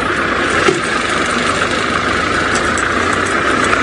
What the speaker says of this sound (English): I'm just going to move the car again